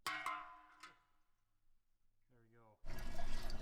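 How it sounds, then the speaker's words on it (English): Old engine oil from a 1998 Toyota RAV4 starts pouring out of the drain hole as a sudden, steady, close stream of liquid. It follows a few moments of quiet handling noises and a brief tonal sound. "there's the oil draining out"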